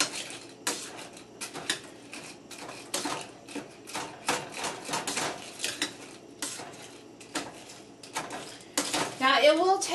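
A utensil clinks and scrapes in a steady rhythm against a pot on the stove while applesauce is mashed with red hot candies. The close, repeated clatter runs throughout, with a brief bubbling stir near the end.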